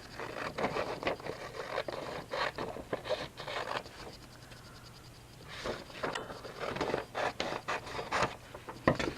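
White tape is cut off with repeated short scraping, rubbing strokes, quiet and close, with a brief lull in the middle before the strokes resume.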